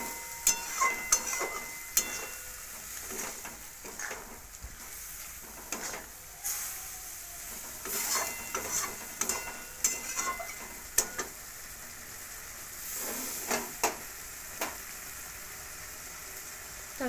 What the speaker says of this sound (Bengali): এবার অল্প কষিয়ে নেবো।